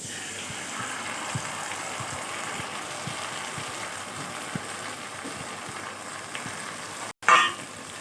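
A semolina and potato mixture fries in a pan while being stirred, giving a soft, continuous sizzle with faint scraping and a brief clatter near the end.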